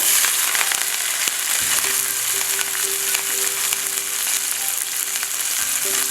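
White bok choy stems stir-fry in a hot pan, giving a steady, close, bright sizzle with faint stirring scrapes and no talk.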